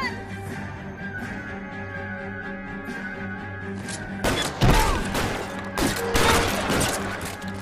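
Gunfire in the video game LA Noire breaks out over a steady engine and music bed, a cluster of sharp, loud shots and thuds arriving in the second half.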